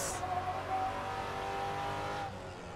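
A race car accelerates hard in Assetto Corsa with a sustained close engine roar and a faint tire squeal, the sound dropping off near the end.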